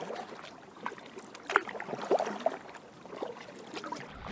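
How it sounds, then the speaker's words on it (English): Paddle strokes splashing and dripping in water, recorded on an XTU S3 Pro action camera, a few distinct dips over a steady watery wash, fairly close. "paddling sound on the XTU"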